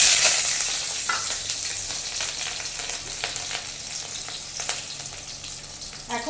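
Nigella seeds and green chillies temper in hot oil, giving a loud, continuous close sizzle with scattered small crackles that slowly settles.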